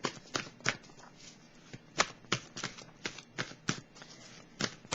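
Tarot cards shuffled by hand in several quick riffling bursts, crisp and close, with short pauses between, and no talk.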